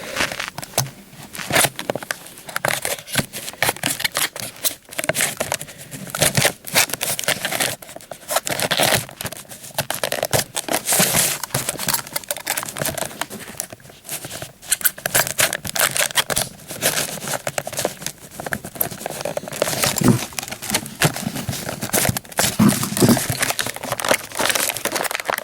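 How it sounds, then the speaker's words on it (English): Plastic and cardboard packaging crinkling and rustling continuously as a Bachmann Percy model train is unboxed, dense and loud, close up, with occasional snapping and tearing sounds. "Now everyone loves unboxing, so I'm gonna show some unboxing shot."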